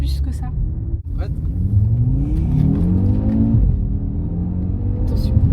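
A 400 hp Audi RS3 accelerates from inside the cabin, a low muffled engine rumble rising in pitch through a gear before dropping, with people talking over it.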